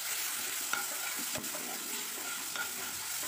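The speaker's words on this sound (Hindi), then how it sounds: "अब इसमें हम टमाटर की प्यूरी मिलाएंगे" Grated tomato puree is stirred into onions frying for palak paneer, a spoon scraping the pan over a steady close sizzle with no talk.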